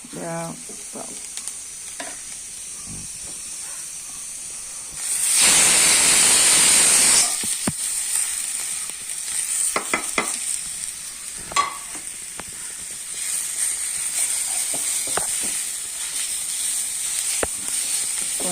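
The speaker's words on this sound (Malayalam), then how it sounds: "നല്ലതുപോലെ വഴറ്റി എടുക്കുക" Tomato and masala sauté in a pan with a soft, continuous sizzle, broken by a brief loud hiss and occasional spoon clicks.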